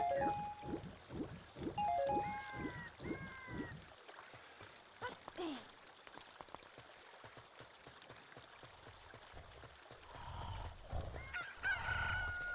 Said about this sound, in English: Oh, the cuckoo, the egg hatched into a cuckoo.